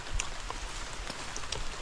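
Steady rain patters on a surface in a bamboo grove, a dense, even wash of drops with a few brighter plinks scattered through it, no voices.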